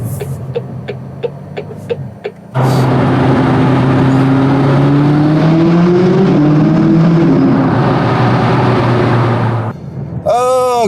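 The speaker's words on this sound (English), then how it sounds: "Nice 675 LT there." A McLaren 675LT sports car drives past close by, its loud engine drone swelling and shifting pitch for several seconds before cutting away, with a few clicks and a short voice before and after.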